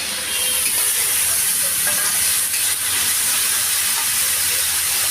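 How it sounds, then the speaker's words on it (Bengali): Oil sizzling steadily in a kadai while red food-coloured ingredients fry for basanti pulao, a continuous loud hiss with faint stirring scrapes, no voices. "লালটা ভেজে নেব"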